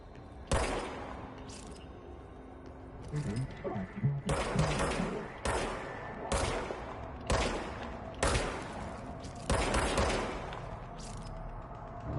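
The player's gun firing in the game Control: a series of sharp, separate shots, roughly a second or two apart, each with a short decay, against a quiet background.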